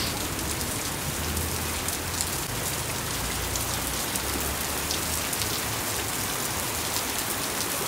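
Heavy rain pours down steadily, a dense, continuous hiss and patter on surfaces, loud and unbroken with no voices.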